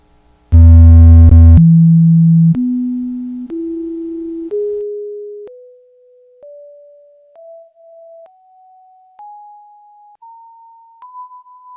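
After a short low note, a series of about ten pure sine tones sounds one at a time, each roughly a second long and stepping higher in pitch.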